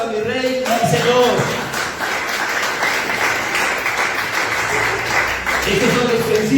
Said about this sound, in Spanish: En un fuerte aplauso a mi Rey y Señor.